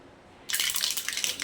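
Mustard seeds hit hot oil in a pan for a chicken curry tempering, and a sudden loud, steady sizzling hiss bursts in after a brief quiet start.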